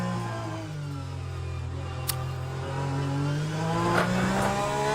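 LMP2-class race car in the Le Mans Ultimate sim, engine droning steadily with rising and falling pitch as it accelerates, tyres flat-spotted, heard close and alone without talk.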